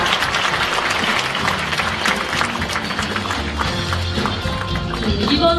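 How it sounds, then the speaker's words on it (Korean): An audience claps at a Korean police veterans' association anniversary ceremony at the Sejong Center, a dense, loud, sustained round of applause that fills the hall. "여러분 큰 박수로 화답해 주시면 감사하겠습니다"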